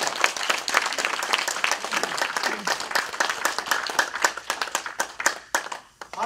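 Audience applause at a political lecture rally, dense sustained clapping from a crowd lasting throughout, fairly loud and continuous with scattered sharper claps.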